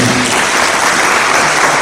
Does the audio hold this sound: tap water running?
no